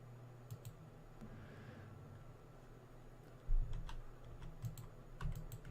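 Computer mouse and keyboard clicks while playing a Minecraft modpack, a few scattered sharp clicks early, then a louder burst of rapid clicking near the end, with no talk.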